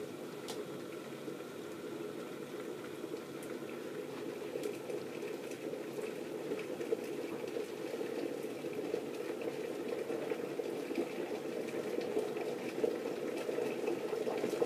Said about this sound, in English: Boiling, boiling, boiling.